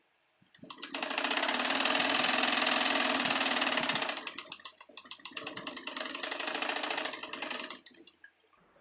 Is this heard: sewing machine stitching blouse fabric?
yes